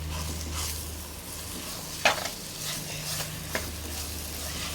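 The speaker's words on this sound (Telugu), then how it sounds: "కీమా కదా జల్దీ అయిపోతుంది. చూడండి ఎంత మంచిగా ఫ్రై అయింది." Chicken keema fries in a pan on low heat for biryani, sizzling steadily while a spoon stirs it with a few soft scrapes and one sharp clink against the pan, close up and without voices.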